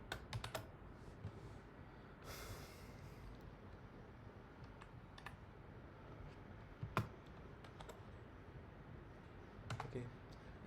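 Faint, irregular keystrokes on a computer keyboard while someone writes Python code for a simple calculator, a few sharper clicks standing out above a steady low room noise.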